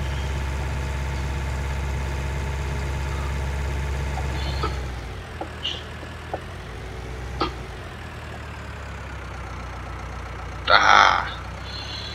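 An old tractor engine idling, a low steady rumble that drops away partway through, followed by faint clanks, a short exclamation and a brief rushing burst near the end.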